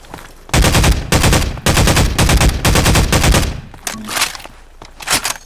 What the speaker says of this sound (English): you can just like cap fire, just like do a little burst